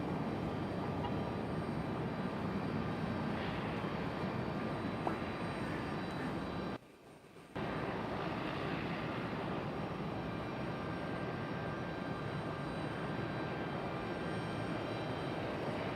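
A FedEx ATR turboprop at Raleigh-Durham International Airport gives a steady, loud engine drone that holds throughout, with a brief dropout partway through.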